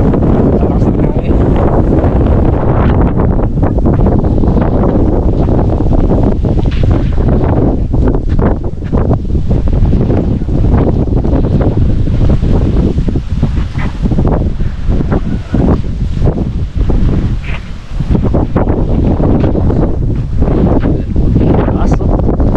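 Strong wind roars without a break at a seaside spot in Dingalan, Aurora, buffeting the microphone loudly and close, with a person talking through it.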